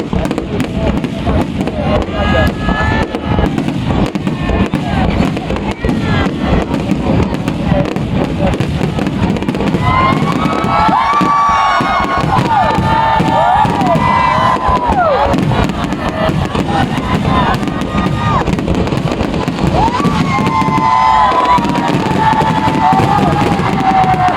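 New Year fireworks burst continuously in a dense barrage of booms and crackles, with whistling rockets and a crowd murmuring and cheering underneath.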